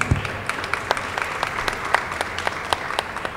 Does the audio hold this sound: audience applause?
yes